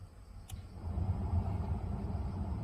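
A short electronic beep sounds once as a Kia Sorento Hybrid is switched off, over a low, steady engine rumble that continues afterward.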